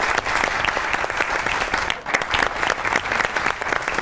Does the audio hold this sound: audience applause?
yes